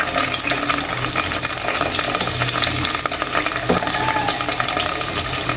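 Spices tipped into a pan of fried onions with a splash of water crackle in a loud, dense, continuous sizzle, with brief stirring scrapes and no voices.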